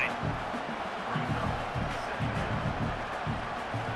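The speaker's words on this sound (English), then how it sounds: "this home crowd getting involved right from the start" A home crowd at an American football game makes a steady, distant roar of cheering and murmur that carries on throughout without clear peaks.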